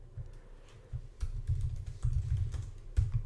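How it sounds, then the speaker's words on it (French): Fingers type on a computer keyboard, a quiet, irregular patter of soft clicks arriving in short bursts, nearby and with no voices. "Et puis vous pouvez directement commencer à taper vos questions."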